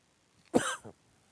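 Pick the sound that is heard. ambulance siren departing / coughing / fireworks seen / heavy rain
coughing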